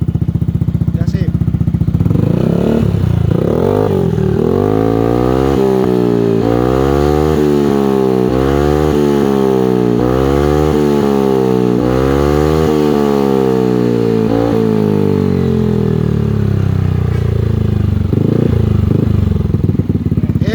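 A Yamaha NMAX scooter fitted with a Racing Pro Liner Max 2 exhaust is revved repeatedly up and down, giving loud, close rising and falling engine blasts with a rumbling exhaust note over a steady idle.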